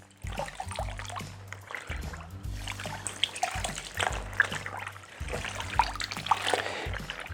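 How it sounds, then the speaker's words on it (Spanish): A cotton T-shirt is pushed into a basin of water, giving irregular splashes, trickles and sloshing close by, with a low hum underneath and no voices. "el primer paso sería introducirla en un barreño con agua"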